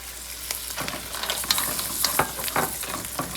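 White wine poured into a hot pan of mussels and Manila clams being cooked marinière style, giving a steady close sizzle and frying crackle with scattered sharper pops and stirring clatter.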